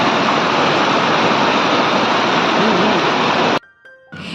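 A waterfall in hilly forest roars as a loud, unbroken wash of rushing water, cutting off abruptly near the end.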